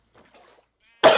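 A single sharp sneeze bursts out close and loud at the end, after a moment of faint murmuring.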